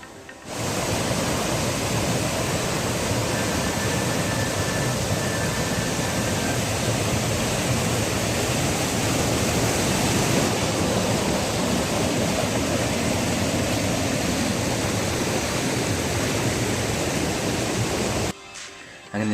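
Keralakkundu waterfall roars from below an iron bridge, a loud, constant rushing wash of falling water that holds steady for the whole stretch before cutting off near the end.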